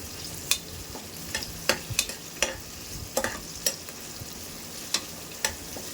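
Ginger garlic paste and onion frying in a pan for ghee rice, a soft steady sizzle broken by sharp scrapes and clicks of stirring at irregular intervals, close by with no talk.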